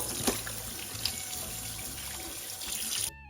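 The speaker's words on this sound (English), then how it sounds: "Give it a good rinse." Tap water runs steadily into a kitchen sink while a turkey is rinsed, a close, continuous splashing stream that stops abruptly at the end.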